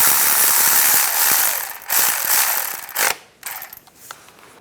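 A new crankshaft bolt on a 2010-2016 Cadillac SRX engine being tightened with a ratchet, heard as loud, close, rapid ratcheting clicks in a few strokes before it stops.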